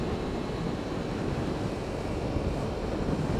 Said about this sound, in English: the wind's going right in my eyes